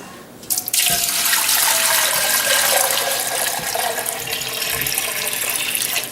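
Cool tap water pours steadily into a metal pot, a continuous rushing splash that starts abruptly and runs on without pause.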